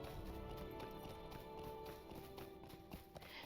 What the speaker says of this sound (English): Now at this point we are going to get on a horse.